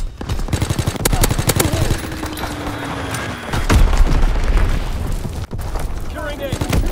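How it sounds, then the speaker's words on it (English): An Azon bomb falls and explodes in Call of Duty WWII multiplayer: a descending whistle followed by booming blasts, mixed with machine-gun fire and bursts of battlefield noise, loud and close, with radio-style voice announcements over it. "Dropping Azon bomb."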